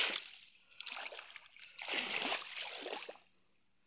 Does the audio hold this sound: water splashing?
yes